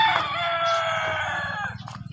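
A free-range village rooster crows on a farmhouse: one long, loud, close cock-a-doodle-doo that tails off into short clucks.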